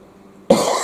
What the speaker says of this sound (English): And that's the cough that I've got from this ridiculous weather.